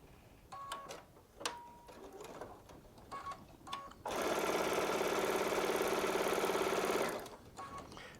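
Baby Lock Solaris sewing machine piecing quilt squares with a 1/4" piecing foot, running in a steady loud burst for about three seconds after some brief clicks and handling noises.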